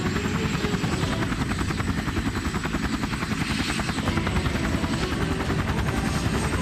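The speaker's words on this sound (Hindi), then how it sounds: "तभी हेलीकॉप्टर की आवाज आने लगी" A helicopter's rotor thumps continuously with a loud, steady chop and engine drone, close and unbroken throughout.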